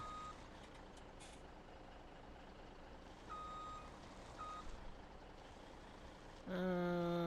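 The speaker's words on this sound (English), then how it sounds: "we're going to fire up our truck here and reposition this bad boy" A truck in Farming Simulator 17 idles quietly, then a loud, steady run of reversing beeps starts close up near the end.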